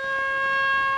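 An alert siren at an Iranian air base sounds a steady, sustained wailing tone, loud and unbroken, with no talking.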